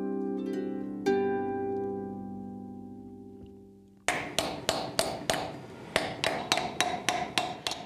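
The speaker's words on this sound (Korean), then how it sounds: "수천 수만 번의 망치질 끝에 완성되는 작업." A master silversmith's hammer strikes silver in a traditional silvercraft workshop, a series of sharp, ringing metallic taps in an uneven rhythm, close and fairly loud, following a long sustained tonal ring that fades out beforehand.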